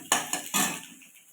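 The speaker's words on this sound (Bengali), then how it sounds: "এইভাবে না নাড়লে তো পেঁয়াজটা পুড়ে যাবে।" Stirring frying onions in a pan while cooking lote (Bombay duck) fish: three distinct metal-on-pan scrapes and clatters, close and fairly quiet, fading into a soft sizzle with no talking.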